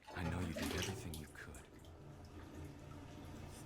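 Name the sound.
running bath water in the video game What Remains of Edith Finch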